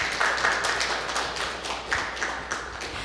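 An audience at a Wednesday book talk event applauds, dense clapping close and fairly loud that fades slightly over a few seconds.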